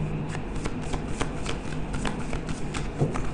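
Playing cards shuffled continuously during a tarot-style card reading, a dense, close riffling rustle that rises and falls in rapid flutters from start to finish without pause.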